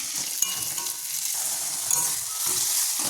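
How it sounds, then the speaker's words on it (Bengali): Meat with spices sizzles steadily in a pan as it is sautéed, the continuous frying hiss broken by a few stirring clinks and scrapes. "এখানে মাংসটা মশলাটা কষানো হচ্ছে।"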